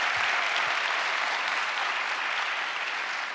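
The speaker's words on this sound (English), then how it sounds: "that deserves applause" Applause from a large conference audience at an evening climate plenary, a dense sustained patter of clapping hands that stays steady throughout with no voices over it.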